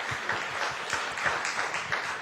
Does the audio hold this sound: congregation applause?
yes